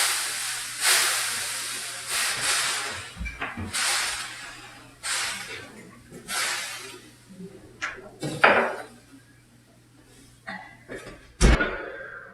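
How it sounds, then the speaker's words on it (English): Water spritzed into a hot oven holding crusty French bread gives repeated short hissing sprays, spaced irregularly, with a few clanks of metal and a low steady hum underneath. "I'm going to just douse some water in here after I have put the bread in. So just spritz a little."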